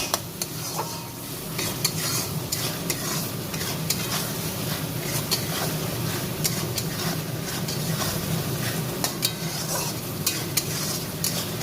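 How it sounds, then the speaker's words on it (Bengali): Turmeric stirred into a sizzling fish curry in a pan, a steady scrape of the spoon over constant loud frying, with occasional utensil clinks and no talking. "ভালো করে নেড়ে নিতে হবে"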